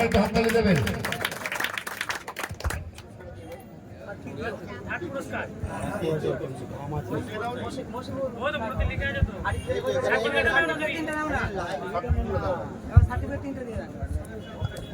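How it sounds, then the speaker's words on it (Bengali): An audience claps at the Shantipur Pigeon Club prize-giving ceremony, a dense burst of applause for the first few seconds that fades into crowd chatter and someone talking over a public address. "হাততালি বন্ধুরা হ্যাঁ"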